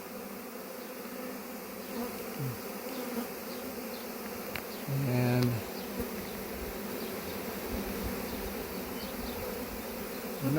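A honey bee swarm buzzes steadily around a branch outdoors, a dense, faint hum of many bees close by that carries throughout, with a brief louder passing bee and a single spoken word.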